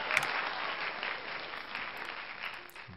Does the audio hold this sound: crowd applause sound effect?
yes